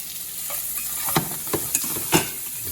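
Onions and bacon fry together in a pan, a steady close sizzle broken by several scraping stirs of the spoon, with no talking.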